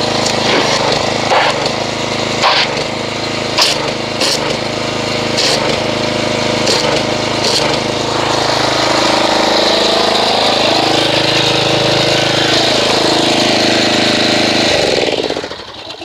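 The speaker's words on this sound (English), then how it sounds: "So I'm gonna go ahead and get the pressure washer" Small gas engine of a pressure washer running continuously at close range, a buzzing idle with sharp knocks early on, then a shifting whine before it cuts off at the end.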